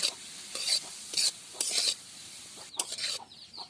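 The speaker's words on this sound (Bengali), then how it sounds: "এবারে নুন আর হলুদ কফির সাথে ভালো করে নাড়াচাড়া করে মেশিয়ে নেব" Cauliflower stirred with salt and turmeric in a pan, several short scraping bursts of a spoon over a soft sizzle, close and fairly loud, in an uneven rhythm with no talking.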